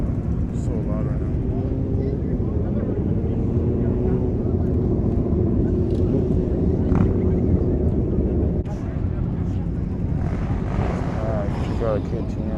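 A large group of motorcycles rides together on a massive New Year's ride, a loud, continuous engine roar and rumble dominating the scene close by, with a voice speaking faintly underneath.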